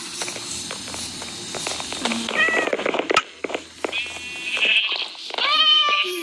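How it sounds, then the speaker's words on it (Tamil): A cat in the Minecraft video game meows repeatedly, several short, high, whiny mews in quick succession over a clicky game background, with no words spoken. "எங்கே இருக்குது அந்த பூனை? இதோ இன்னும் ஓடி ஓடி வருது."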